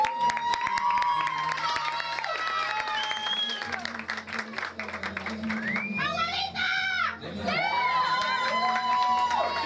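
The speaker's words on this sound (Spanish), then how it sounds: "Un aplauso." At a quinceañera party in Miami, a loud crowd of guests claps and cheers close by, with children shouting, whoops and overlapping chatter running continuously throughout.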